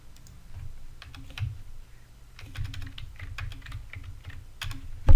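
Typing on a computer keyboard to add paragraphs to a text file, with quick irregular bursts of soft clicking key presses, close and alone, ending in a louder thump.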